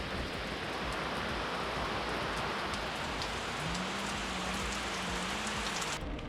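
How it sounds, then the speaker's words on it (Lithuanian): Heavy rain pours steadily during a cycling trip in Lithuania, a dense, unbroken roar of drops on surfaces that stays loud and even from start to finish, with no voices. "Jau galvojom, kad praeistų, bet ne, dar labiau pradėjo pilti."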